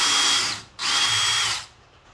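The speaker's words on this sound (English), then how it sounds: "once you've got your hole all drilled, I actually just power tap it with my drill." Power drill power-tapping a hole in thin, skinny sheet metal, two close, loud whirring runs of the motor, the first brief and the second longer, then trailing off.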